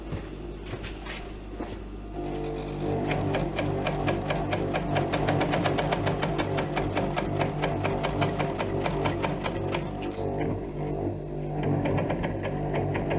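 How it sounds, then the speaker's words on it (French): A sewing machine stitching yurt fabric: a rapid, steady mechanical chatter that starts after a couple of quiet seconds and runs loud and close, shifting briefly near the end as the seam is backstitched to lock the thread. "Petit point d'arrêt, toujours à faire à la fin pour maintenir le fil."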